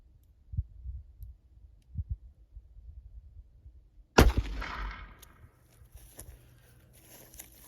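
A single loud report from a Ruger LCR .38 Special +P revolver firing a Winchester Defender 130-grain round into ballistic gel from about five feet, a sharp close bang with a brief ringing tail after quiet handling noises.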